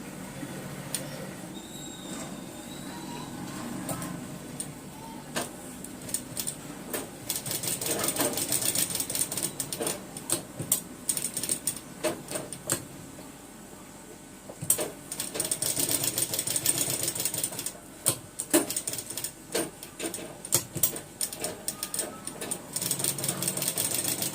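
A sewing machine runs in bursts of rapid mechanical stitching during a basic tailoring stitch lesson, a fairly quiet rattling hum with short pauses between runs.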